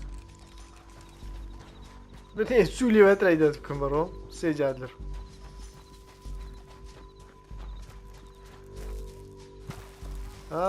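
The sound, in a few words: horses in video game Red Dead Redemption 2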